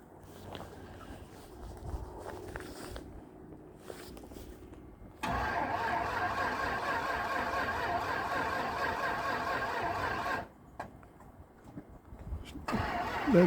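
A 1986 Nissan President cranking and failing to catch: faint starter churning at first, then a loud steady burst of cranking for about five seconds, a pause, and more brief cranking attempts near the end.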